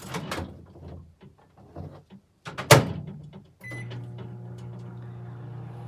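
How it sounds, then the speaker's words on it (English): A microwave oven heating soap: clunks and clicks of the door and buttons, a beep, then a steady low hum as the oven runs. "Put it in the microwave for 30 seconds."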